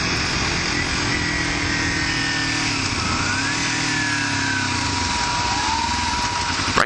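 Small 50cc scooter engine while riding: a steady, buzzing single-cylinder drone at near-constant revs with slight pitch shifts and wind rush, loud and close, with no talk.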